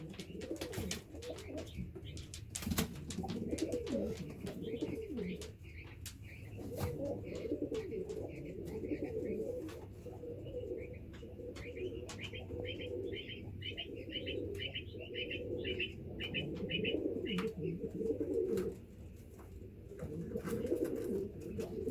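White pigeons cooing in soft, repeated rolling murmurs, joined by scattered chirps and occasional flutters, steady and fairly close but quiet throughout.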